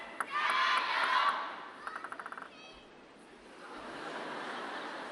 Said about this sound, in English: Wang Chuqin just got a cheer.